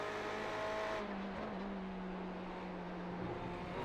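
Ferrari race car accelerating at Le Mans in the iRacing video game, a loud, steady engine note rising in pitch with a gear change partway through, with no talking.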